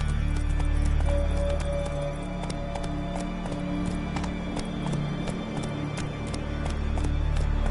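Horse galloping in The Witcher 3, a fast, even clip-clop of hooves over a dense bed of game music, loud and close for the whole stretch.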